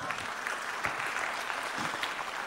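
Steady applause from a studio audience at a New Year's television club show, a dense even wash of clapping that runs throughout at moderate level with no voices standing out.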